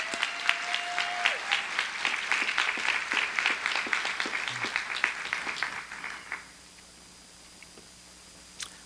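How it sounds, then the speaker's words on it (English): Audience round of applause at a prep school senior charge, a few minutes of crisp, separate claps from a modest crowd that die away after about six seconds, leaving near silence. "So give them a round of applause."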